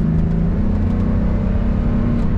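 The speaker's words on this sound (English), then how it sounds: "Good acceleration in this car." A 1986 Mercedes-Benz 560SL with an automatic transmission accelerates, giving a steady, loud engine drone and low rumble heard from inside the cabin, with no voices.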